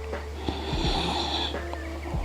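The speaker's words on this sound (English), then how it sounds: "Check into your Ujjayi breathing" Ujjayi breathing during an outdoor yoga flow: a close, rasping, throaty breath drawn steadily across the clip, with faint thumps around it and no clear talk.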